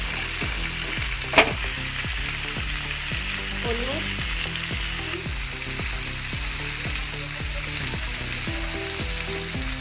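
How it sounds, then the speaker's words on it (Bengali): Vegetable stalks and potatoes fry in a pan for a spicy chorchori, a constant sizzle broken by regular scraping stirs, with a voice briefly heard. "ডাটা আর আলুটা ভাজা ভাজা হয়ে এসেছে"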